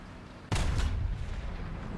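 One sudden heavy tank cannon blast in the video game War Thunder, with a deep rumbling tail that fades slowly, loud and close over a low background.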